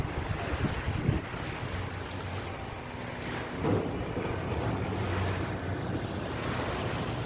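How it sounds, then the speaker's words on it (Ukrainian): Sea waves wash in a steady, broad roar, with a couple of swells rising louder amid wind buffeting the microphone. "Хочу шум моря привезти з собою."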